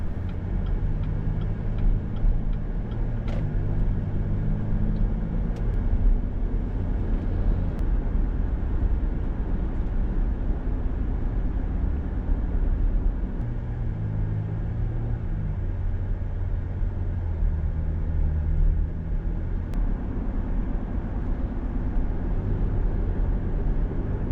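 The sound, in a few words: car driving back into Branson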